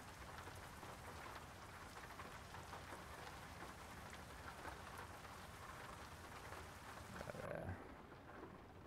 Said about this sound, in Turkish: Yağmurlu bir havada.